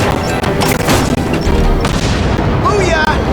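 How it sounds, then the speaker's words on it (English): A rigged car blows up in The Amazing Spider-Man 2 PC game, a loud booming blast with crashing debris and crackling bursts, layered with dense game noise and voices talking. "Car's wired to explode."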